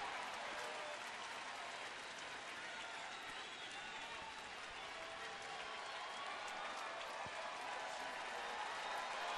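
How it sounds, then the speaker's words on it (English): Broad, steady wash of distant baseball stadium crowd noise at night with a hiss of falling rain, sustained evenly throughout without distinct voices. "Our crowd tonight, most of those who remain are tucked up underneath, trying to stay dry, making some noise."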